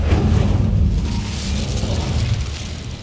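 The Incendio fire spell goes off in Hogwarts Legacy on Xbox Series X as a loud, low booming whoosh of flame that swells at once and then slowly fades over about three seconds.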